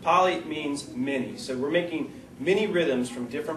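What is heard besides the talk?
No everyday noise stands out behind the speech.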